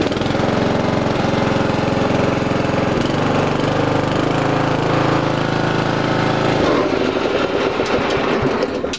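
A 1998 MTD Yard Machine riding lawn tractor engine running loud and close after a cold start, a steady rough drone whose pitch shifts partway through, then turns choppier near the end.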